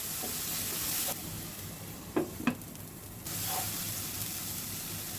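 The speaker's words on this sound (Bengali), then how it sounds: "এখন একটু কষিয়ে নিব। ভালো করে কষাতে হবে, মশলাটার গন্ধ যেন না থাকে।" Spice masala of turmeric, chili and coriander powder sizzles steadily in hot oil in a pan, a broad continuous hiss broken by a few scraping stirs and a short quieter dip.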